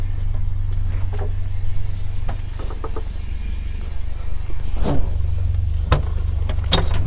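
A red 1972 Lancia Fulvia pulls away for a drive, its low engine drone steady and close throughout, with a few sharp clicks and knocks from inside the cabin, such as door or belt handling.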